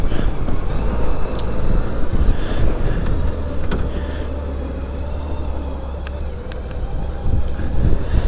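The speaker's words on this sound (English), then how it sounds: "It's windy." Steady wind roars and buffets against the microphone while riding a Honda Goldwing trike, a dense low rumble that surges and eases throughout with no clear pauses.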